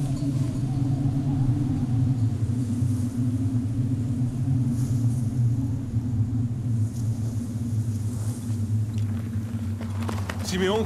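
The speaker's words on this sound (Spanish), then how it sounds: "Es una tormenta." An approaching storm rumbles in a dramatized biblical story, a loud, steady low roar filling the whole stretch without pause.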